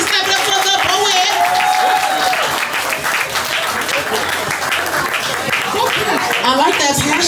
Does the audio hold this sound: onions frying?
no